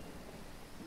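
Steady rain with a low thunder rumble in the video game Dead in Vinland, a continuous dense wash of storm noise filling the short moment without any talk.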